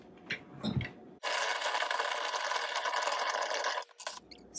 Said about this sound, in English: So once you've started creaming the butter and the cheese together